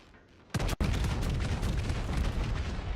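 The battlecruiser Amagi fires its main guns in World of Warships, a sharp booming salvo that gives way to a sustained loud rumble.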